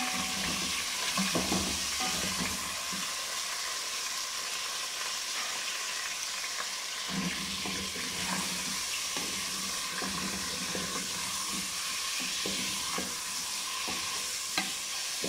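Chicken pieces sizzle steadily in a pan with garlic-ginger paste for a potato chicken curry, stirred now and then. The frying is close and continuous and there is no talking.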